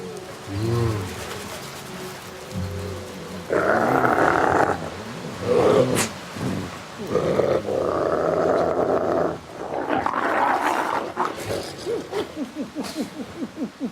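Captive wolves snarl, growl and roar as they squabble over food at feeding time, in loud overlapping bursts, while a man makes low, soothing wolf-like noises in imitation to calm the pack.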